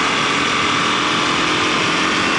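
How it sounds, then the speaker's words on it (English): A Kawasaki KLX250SF supermoto motorcycle engine buzzes loud and close with a high, steady whine under throttle, accompanied by rushing wind noise while riding on a twisty road. "open up the throttle a little into 5th gear, back into 6th"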